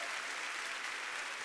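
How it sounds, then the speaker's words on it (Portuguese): A church congregation at an evening Baptist service claps together in a dense, even wash of applause that fills the whole short moment. "Pode aplaudir o Senhor,"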